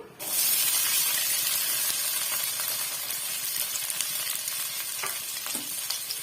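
Onions, garlic and curry leaves sizzle and fry in hot oil for a potato gravy, a loud continuous crackling hiss starting abruptly and holding steady close up, with occasional pops and no talking.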